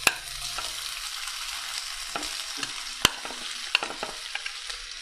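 Carrots and other vegetables fry in a pan on a live cooking show. A soft, steady sizzle is heard up close, broken by scattered clicks and clinks of a spoon against the pan.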